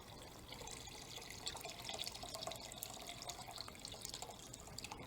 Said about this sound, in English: I will now just add some water because as I said, you need 4 liters of water per bag.